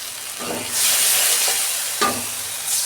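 Masala with Kashmiri chili frying in a pan, a loud close sizzle that swells and hisses with a couple of sharp stirring scrapes against the pan.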